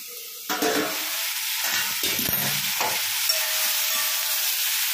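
Yogurt masala whipped with coriander and cumin powder fries in a pan for a vegetarian dish, giving a steady sizzle with a few scraping stirs in the first half. No one speaks.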